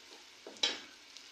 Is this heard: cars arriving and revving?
no